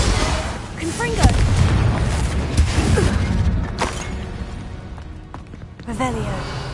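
A Confringo fire spell blasts during Hogwarts Legacy combat: several booming, fiery impacts stand out from a busy battle mix, with spoken voices threaded between the hits.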